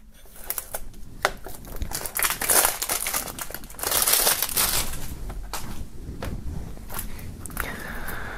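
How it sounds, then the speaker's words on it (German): Plastic foil is peeled and crinkled off boxed merchandise, a continuous close crackling and rustling with bursts of louder crumpling throughout, with no talking. "nachdem hier diese beiden Sachen noch in Folie sind, werden wir die hier mal befreien"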